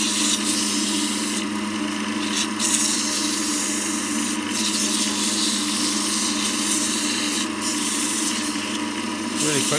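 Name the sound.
sanding a wooden lidded box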